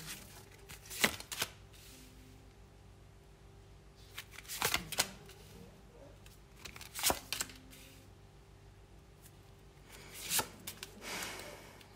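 Tarot cards are shuffled and laid out during a reading, with several short riffling bursts in separate clusters, close and moderately loud against a quiet room.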